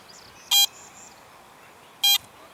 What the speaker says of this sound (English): we got another pretty solid signal right here. Yeah, it's ringing up kind of like a penny.